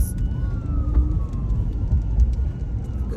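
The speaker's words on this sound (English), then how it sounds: "It's the ambulance." An ambulance siren wails at a distance over steady rumbling traffic, its pitch sliding slowly as the vehicle passes by.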